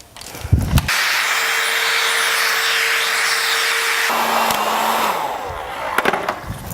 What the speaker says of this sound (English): quick blast with the hairdryer